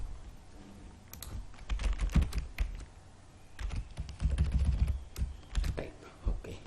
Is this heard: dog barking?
no